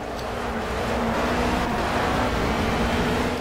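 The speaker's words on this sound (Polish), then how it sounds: "nie mogę się przyzwyczaić też do odgłosów, jakie wydają silniki w samochodach" Racing car engines in the Project Cars driving game roar continuously at a steady, loud drone with a constant tonal hum, no voices over it.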